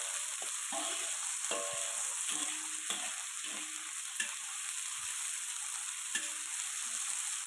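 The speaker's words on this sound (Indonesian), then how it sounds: "Lanjut kita mau masukkan cabai habaneronya yang ini kita tumis dulu sampai" Habanero chili peppers stir-frying in hot oil in a home kitchen, a steady close sizzle broken by repeated scraping clicks of a spatula stirring the pan, with no talk.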